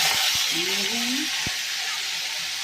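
Soaked peanuts tumble into hot oil with a steady broadband sizzle and hiss, punctuated by a few sharp clacks of the pan and faint background voices.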